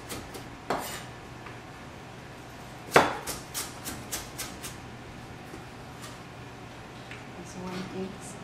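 Knife slicing celery into strips on a cutting board for chicken chow mein: one sharp, louder chop followed by a quick run of lighter, evenly spaced cuts, then a quieter stretch with faint kitchen noise.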